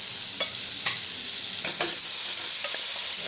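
Butter sizzles in a warm pan, a soft, continuous frying crackle with light scattered pops and stirring clicks, fairly quiet and with no talk.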